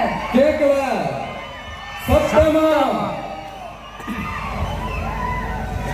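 A crowd at a Vijay event shouts and whoops in several loud surges, with raised voices swelling around two seconds and again near four seconds over a steady din of cheering.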